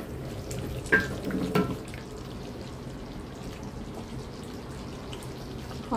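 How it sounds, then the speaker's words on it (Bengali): Beef and sour yogurt simmer and fry in a pot for a large batch of beef tehari: a soft, steady sizzle with a few stirring clinks early on, fairly quiet and close, without speech. "মাংসটা একটু কষানোর পর তারপর হচ্ছে আমি যে টক দইটা দিয়ে দিলাম"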